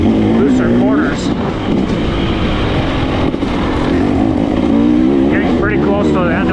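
KTM 300 XC-W dirt bike ridden along a loose trail, its engine droning steadily and rising and falling with throttle under someone talking throughout.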